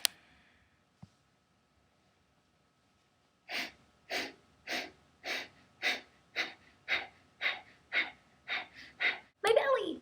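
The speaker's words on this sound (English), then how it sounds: "For Bhastrika pranayama, using the stomach, you physically force air rapidly through the lungs and out the nose." Bhastrika pranayama bellows breathing: after a quiet pause, about a dozen sharp forced exhalations through the nose pump out in a fast, even rhythm, close and breathy, ending in a louder rush of air.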